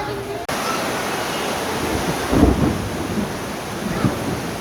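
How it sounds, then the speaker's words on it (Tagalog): Heavy rain pours steadily with a broad roaring hiss, joined by low rumbling gusts and a louder surge partway through, like a storm outdoors. "Ang lakas ng ulan."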